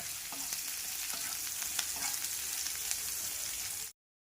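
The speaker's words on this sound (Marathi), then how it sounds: "कांदा थोडा परतून झालाय" Chopped onion sautés with salt in a pan for a hotel-style matar paneer gravy, giving a steady close sizzle with light scraping stirs throughout, no voices.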